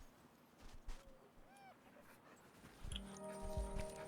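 Sled dogs in the video game The Red Lantern give a few soft whimpers and a rising whine amid quiet panting, before background music swells in.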